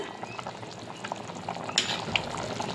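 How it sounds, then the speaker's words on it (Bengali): Vegetarian potato curry boiling in a pot after hot water is added, giving a steady bubbling, simmering texture close by with a few brief louder pops and clinks, no voices. "গরম জলটা দিয়ে দিলাম ঝোলটা ফুটে গেছে আলুও সেদ্ধ হয়ে গেছে"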